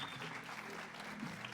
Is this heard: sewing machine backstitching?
no